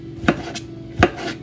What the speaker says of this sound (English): I'm just gonna chop it up however.